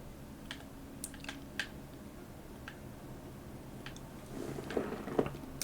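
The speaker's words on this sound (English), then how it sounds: "I actually quite like typewriters. They have a certain feel and sound to them that's actually really pleasant." Typewriter keys clatter in the video game Jenny LeClue, a scattered run of light clicks that grows busier and louder near the end over a low steady hum.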